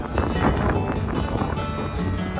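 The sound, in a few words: strong wind on a ferry deck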